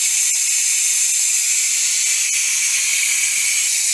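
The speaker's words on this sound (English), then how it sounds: "Let's pressure out. It usually takes about a minute to let the steam out." Steam releases from a pressure cooker making chicken noodle soup. A loud, steady, close hiss holds without a break, and nobody speaks.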